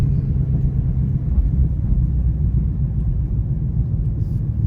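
A boosted 2018 Ford Mustang GT engine pulls hard as the car accelerates, a loud, steady low rumble that fills the clip with no break.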